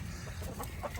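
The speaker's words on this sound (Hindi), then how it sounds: "मुर्गियों को आज़ादी का टाइम हो गया, मुर्गियों को बाहर निकाला है।" Free-ranging hens let out of their coop cluck in a brief flurry of short, close calls, with no voices.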